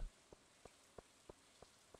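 Rain falling in the farming video game Stardew Valley, heard as a soft, quiet patter with light regular drops ticking about three times per second, no voices.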